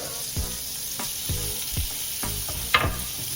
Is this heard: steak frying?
yes